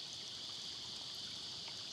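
A small creek in Garigal National Park, New South Wales, flows over rocks, giving a steady, even rush of water that is close and continuous, with no voices.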